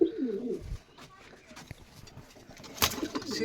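Madrasi pigeons coo in a loft, a burst of throaty calls at the start and again near the end, separated by quieter stretches of faint rustling and shuffling.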